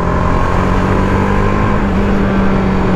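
Steady, loud drone of a TVS Apache RR 310 BS6 motorcycle engine in track mode, heard up close with a slightly changing pitch and no talking over it.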